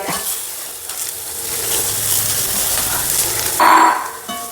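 Onion, green chili and chopped tomato frying in a pan for Bombay sambar, a steady close sizzle that flares louder as the tomato goes in near the end, with no talking.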